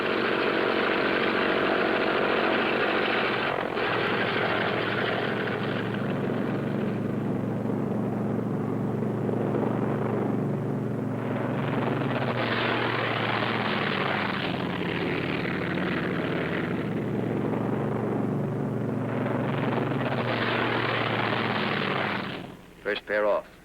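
Military jets taking off in a pair from a runway, a broad, loud jet roar that swells and shifts in waves for over twenty seconds before dropping away at the end, with a voice speaking over it.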